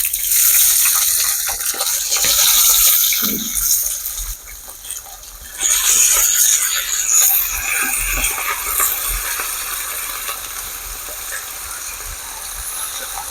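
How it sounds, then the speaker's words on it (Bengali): Potato, eggplant and bean pieces go into hot oil seasoned with five-spice in a wok. A loud, hissing sizzle dips briefly, then surges again as more vegetables land, and a steady frying hiss carries on close by without talk. "আলু বেগুন শিম"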